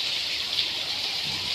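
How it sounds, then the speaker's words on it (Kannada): Heavy rain pours down in Bengaluru, a steady dense hiss of drops on surfaces close by, continuous and unbroken, with no talking. "ಬೆಂಗಳೂರಲ್ಲಿ ಸಖತ್ ಮಳೆ ಬರ್ತಾ ಇದೆ ಇವತ್ತು"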